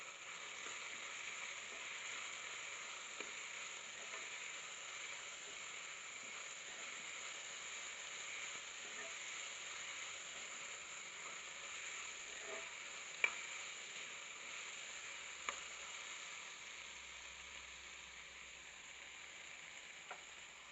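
Carrot and potato pieces fry in a pan for a mixed vegetable curry, a faint steady sizzle with a few light clicks of stirring scattered through.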